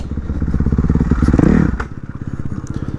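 A 450cc dirt bike engine thumping close by on urban trails, rapid rhythmic pulses that swell briefly around the middle and then settle back to a steady chug, with light clatter over the engine.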